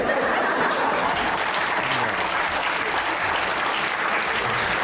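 A studio audience at a comedy talk show claps in a full, continuous burst for about five seconds, with a few chuckles and murmurs mixed into the applause.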